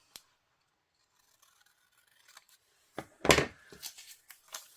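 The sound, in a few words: scissors cutting off paper edges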